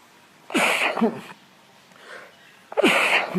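Two sharp, loud sneezes burst out about two seconds apart, with a faint breathy sound in between.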